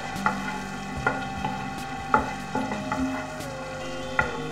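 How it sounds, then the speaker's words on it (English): Sausages fry with onions in a pan: a steady low sizzle runs under repeated sharp clicks and knocks of a utensil against the pan, with no talking. "Time to add in the sausages."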